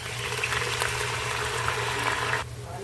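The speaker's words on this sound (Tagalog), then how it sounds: "Kulong-kulo na ang suka." Vinegar boils hard in a pan for humba, a steady close bubbling hiss that carries evenly and then drops abruptly in level near the end.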